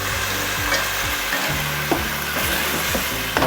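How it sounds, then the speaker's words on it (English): Mushroom risotto stirred in a hot pot with a spoon, its scrapes and soft thuds in an uneven rhythm over a steady sizzle and bubbling, close and fairly loud, with no talking. "And we'll give it a stir."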